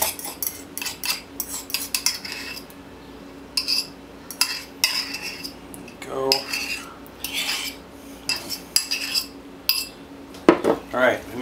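Cooked noodles being mixed with peanut sauce, utensils scraping and clinking against a pot or bowl in irregular bursts, with some brief louder clatters near the end and quiet gaps between strokes.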